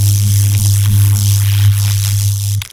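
A synthesized electric arc effect from an SFX Pro 9000 preset with distortion, a loud steady buzzing hum with a strong low tone and crackly fizz that cuts off abruptly at the end.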